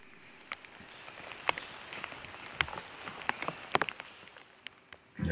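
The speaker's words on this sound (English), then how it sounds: "Yeah, they're going to be dealing with some rain here." Rain falls steadily on an outdoor disc golf course during a tournament round, a soft continuous patter with scattered sharper drops striking nearby surfaces, heard alone without talk.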